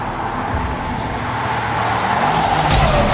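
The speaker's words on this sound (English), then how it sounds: "a V8 supercharged engine producing 375 kilowatts and 625 newton meters of torque" A Jaguar XF-R's supercharged 5.0-litre V8 engine roars steadily, building in intensity as it accelerates, loud and close throughout.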